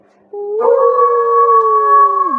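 A dog lets out one long, sustained howl that rises and then holds a steady wavering tone for about two seconds, clear and prominent against a silent background.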